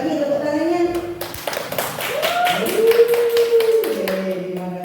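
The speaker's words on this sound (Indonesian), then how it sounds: "Sekali lagi tepuk tangannya." Audience at a school teacher's presentation clapping with light, rapid taps, fairly sparse, beneath a speaking voice.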